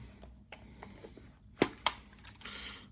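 Kodak Star 275 film camera being wound back, a series of light mechanical clicks and ratcheting taps, with two sharper, louder snaps near the middle, close up in a quiet room.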